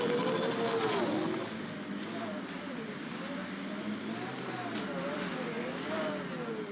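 A car drives in the Mass Effect Andromeda video game, its engine a steady, moderately loud hum whose pitch wavers up and down as it moves. Faint ambient game sounds sit underneath.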